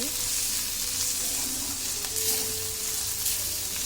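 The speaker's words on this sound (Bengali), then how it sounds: "মরিচের গুঁড়ো, হলুদ গুঁড়ো, লবণ দিয়ে ভালো করে মশলাটা কষিয়ে নেব।" Chili powder, turmeric and salt fry with fish roe in hot oil for a rui fish roe bhuna, a steady, loud, close sizzle that runs unbroken with faint stirring beneath.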